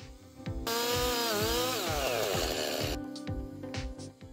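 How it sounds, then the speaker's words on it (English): A chainsaw mill roars into a sustained cut along a log, engine pitch wavering, then drops back to a rough idle. "Chainsaw mill."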